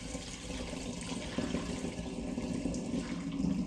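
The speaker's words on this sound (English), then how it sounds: "So now it's time for the big and hopefully not too dramatic pour." Homemade mixed-fruit cider poured through a funnel into a demijohn, a steady gurgling liquid stream that swells slightly toward the end, with no talk.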